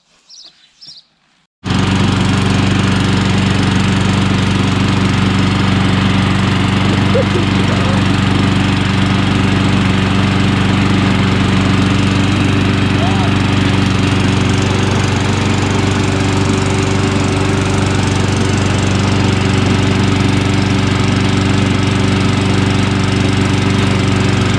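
A new Castorama petrol lawn mower engine starts up after a brief quiet moment and runs steadily at a loud, constant drone with a low hum, close by, with no talking.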